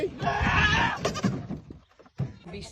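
A goat stuck with its head through a gap on a farm bleats loudly and repeatedly in strained cries, with a voice coming in briefly near the end.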